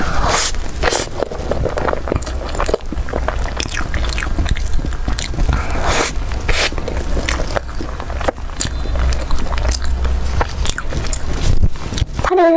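Someone bites and chews a pastry filled with meat floss and sauce, with crisp, crunchy bites and steady chewing close to the mic and no talking.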